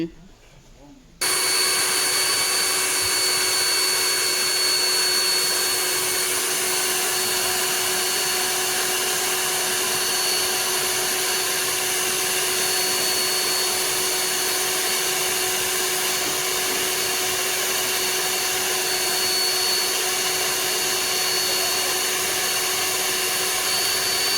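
A vacuum cleaner sucks dust from the interior of a Nissan Juke with its console removed, switching on after a moment of quiet and then droning loudly and steadily throughout.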